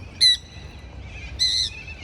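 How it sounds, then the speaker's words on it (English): Two bright, clear bird calls ring out at Kensington Park in Adelaide, each brief and fairly close, over a faint outdoor hum. "It's Kensington Park behind me, so a lot of birds here."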